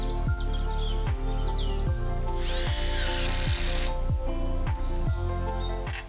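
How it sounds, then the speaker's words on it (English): A power drill drives screws into the door hinges of a PVC greenhouse in repeated short whirring bursts, loud and close, with birds chirping in the background. "drill three screws into the corresponding holes of the door"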